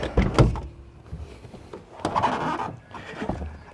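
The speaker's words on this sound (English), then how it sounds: "now I'm going to have to open the passenger door as I get out" Passenger door of a 2018-2019 Toyota LandCruiser 78 Series opening from inside, a short mechanical clunk and rattle followed by a second burst of handling noise, close and moderately loud.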